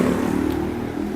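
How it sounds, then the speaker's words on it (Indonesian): A motorcycle passes close by on a campus-area street, a loud, rough engine drone that holds steady for about a second, then eases slightly. "Motor lewat barusan."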